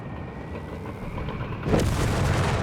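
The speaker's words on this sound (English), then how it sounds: "Artillery firing down there" Artillery firing in Company of Heroes 3 during a desert battle: a low rumbling backdrop breaks into a sudden broad booming blast partway through, followed by sustained rumbling, moderately distant and with no talking.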